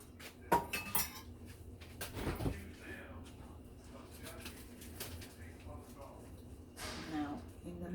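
Beans are stirred in a cooking pot, with metal utensil scrapes and clinks against the pan alongside cooking sizzle, while pigeons coo in the background and someone talks.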